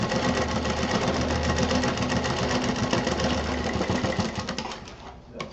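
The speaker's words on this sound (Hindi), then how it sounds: "उस काली पट्टी को दबा के सिल देंगे एकदम किनारे से।" A sewing machine runs steadily, stitching a black zipper tape along the edge of a quilted fabric piece, a continuous close mechanical whir that winds down and stops near the end.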